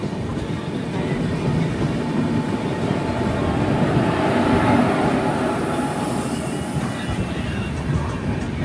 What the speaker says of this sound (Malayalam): രാമകുണ്ടം റെയിൽവേ സ്റ്റേഷനിലേക്ക് ഇതാ ട്രെയിൻ എത്തുകയാണ്